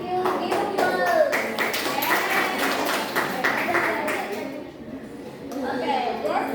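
Students in an English class give a round of applause, a lively patter of clapping and hand taps with children's voices chattering through it, easing off briefly before picking up again.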